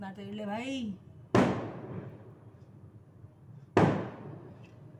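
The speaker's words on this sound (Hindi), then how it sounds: "बाहर शादियां हो रही है, देखो कैसे पटाखों की आवाज़ आ रही है।" A voice speaks briefly, then two sharp firecracker bangs from a nearby wedding celebration go off a couple of seconds apart, each ringing out and decaying, somewhat distant outdoors.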